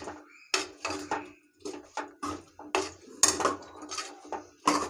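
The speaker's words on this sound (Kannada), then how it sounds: "ಇವಾಗ ಈ ಮಸಾಲೆ ರುಬ್ಬಿರೋದನ್ನ ಇದ್ರ ಜೊತೆ ಹಾಕ್ಕೊಳ್ತಾ ಇದ್ದೀನಿ" Ground masala being added and stirred in a pot while cooking chicken biryani, heard as a steady run of close metallic clinks and scrapes from a spoon against the pot, repeated in quick strokes with no talking.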